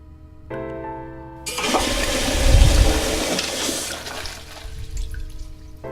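Toilet flushing in the video game The Cat Lady: a loud rushing whoosh of water surges in, peaks, then drains away into a quieter refill trickle, heard alone without talk.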